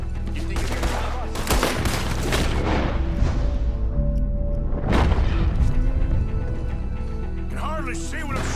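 Gunfire in Red Dead Redemption 2, heavy overlapping shots and booming blasts forming a loud sustained barrage, with a pause of music-like tones midway and voices mixed in.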